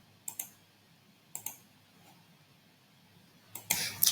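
Several sharp, quiet mouse clicks, a pair near the start and another pair around a second later, then a brighter burst of clicking at the end during a WhatsApp campaign setup in Shopify automation software.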